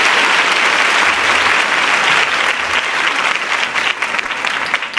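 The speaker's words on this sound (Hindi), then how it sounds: "तो आप सभी तालियां बजाकर उनका स्वागत कीजिए।" A crowd welcomes a visiting education minister with loud, dense applause that holds strongly and then gradually loosens into scattered, more separate claps.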